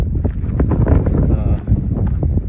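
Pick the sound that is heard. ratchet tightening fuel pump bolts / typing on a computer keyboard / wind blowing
wind blowing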